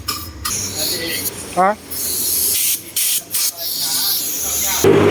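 A water spray gun hisses in bursts while rinsing a removed washing machine drum, loud close-up spurts broken by short pauses, with someone talking between them.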